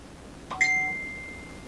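A single bright phone notification ding rings out clearly over a quiet room and fades with a short ringing tail.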